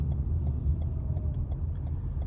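A Lexus hybrid SUV with a 2.5 petrol engine idles at traffic lights, a low steady cabin rumble with a faint regular ticking running through it.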